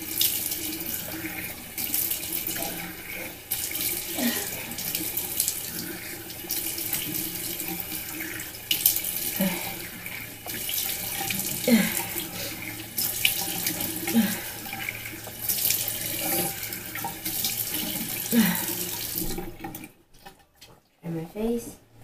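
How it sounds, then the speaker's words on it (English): Tap water runs steadily into a bathroom sink while someone washes their face, with splashing bursts throughout and a voice speaking over it. The flow cuts off near the end. "And now I'm gonna wash."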